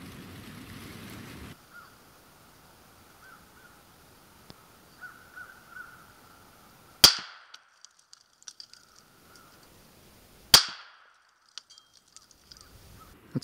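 Rifle shots while zeroing a thermal scope at 100 yards: two loud, sharp cracks several seconds apart, each followed by a short decaying echo, with quiet outdoor background in between.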